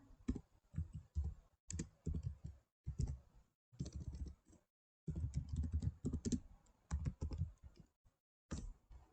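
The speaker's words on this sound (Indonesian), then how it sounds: "kita ketik dulu sertifikat" Keys clatter on a computer keyboard in bursts of quick typing separated by short pauses, close and fairly quiet with no talk.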